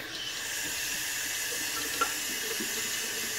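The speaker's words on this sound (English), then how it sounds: "Let me go ahead and start loading the brush or wetting the brush real quick." Tap water runs steadily to wet a shaving brush, a close continuous hiss and splash at even loudness, with a single small knock partway through.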